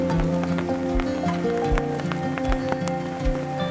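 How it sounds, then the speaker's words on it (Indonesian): Rain patters steadily on a tent during solo camping in a valley, with individual drops tapping on the fabric and a low, irregular thumping in the background, close and continuous. "mendengarkan suara hujan yang jatuh di atas tenda"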